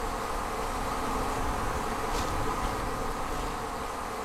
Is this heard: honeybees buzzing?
yes